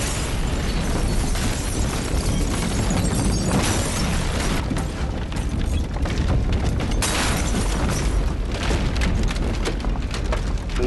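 A loud, sustained explosion from the film Dog Soldiers (2002) roars with rumbling, crackling debris that stays dense and powerful throughout, like a big cinematic blast.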